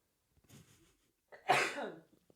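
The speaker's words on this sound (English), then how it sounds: "I have to sneeze" A single person sneezes once, a faint breathy intake first, then a loud, close, sharp burst that trails off into quiet.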